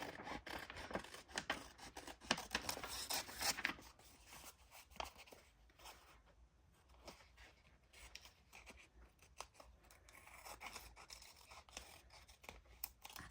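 Scissors snip and slide through paper for a collage, brisk and close for the first few seconds, then quieter intermittent cuts and rustling of paper, with no voices.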